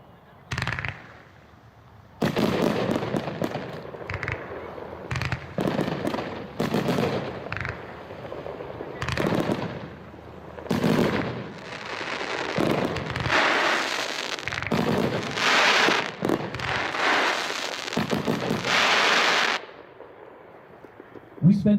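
Tonka 25-shot, 500-gram firework cake by Hot Shot firing a rapid, irregular string of loud bursts and crackling reports over about twenty seconds, with brief gaps between volleys and a crowd faintly audible.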